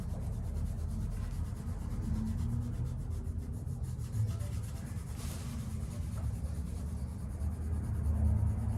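Steady soft rubbing and scratching of pencil shading and blending on paper continues without pause at close range.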